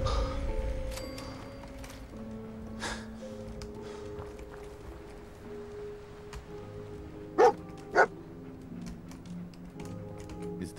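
Dogmeat, the dog companion in Fallout 4, gives two short sharp barks close together over steady game ambience and music.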